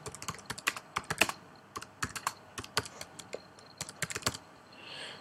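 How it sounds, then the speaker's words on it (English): A computer keyboard clatters as a message is typed, with quick bursts of close key clicks separated by short pauses and no speech. "So, type our message in there."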